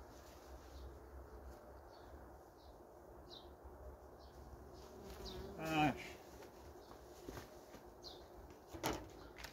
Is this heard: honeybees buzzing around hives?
yes